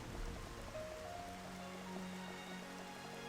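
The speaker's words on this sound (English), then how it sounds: "Also, just the sound of the rain. It's good." Soft, steady rainfall in the Xenoblade Chronicles: Future Connected game world, a quiet continuous patter with faint tonal music drifting underneath.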